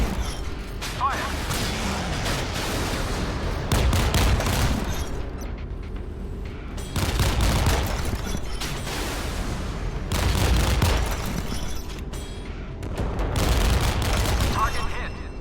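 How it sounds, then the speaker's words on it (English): Naval guns fire repeatedly in the Modern Warships video game, heavy booming salvos and mechanical clatter recurring every few seconds, with game voice alerts speaking over the action. "Fire!"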